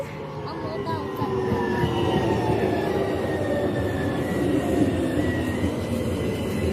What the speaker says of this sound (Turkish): Tramvay da geldi.